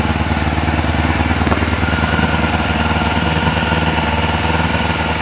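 A Kawasaki Ninja motorcycle engine runs steadily at close range, a loud, even idle with a constant mechanical thrum and no noticeable revving for the whole stretch. The bike has a fault, stalling suddenly and losing power.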